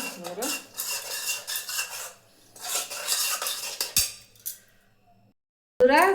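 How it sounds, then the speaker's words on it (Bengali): Aloo kabli stirred in a pan with a spoon, bursts of metallic scraping and clinking in several rounds, close and moderately loud, with quiet gaps between strokes. "ভালো করে নেড়ে নেবো।"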